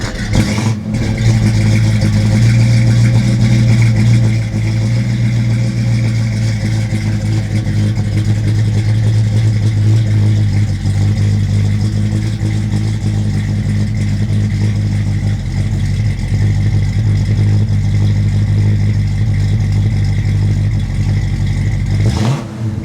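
1967 Mercury Cougar S-Code XR7 big-block engine cranks and catches with a sharp burst, then settles into a loud, steady, deep rumbling idle close by, cutting off abruptly at the end.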